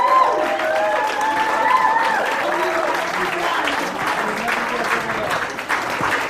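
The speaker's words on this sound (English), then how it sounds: "give yourselves a round of applause" Guests at a wedding reception clap steadily and fill the room with dense, close applause, with a few cheers mixed in and faint talk underneath.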